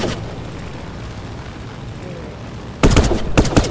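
Gunfire in a Brick Rigs tank battle video game: a muffled low background rumble gives way to a loud burst of sharp, rapid shots near the end, with people talking.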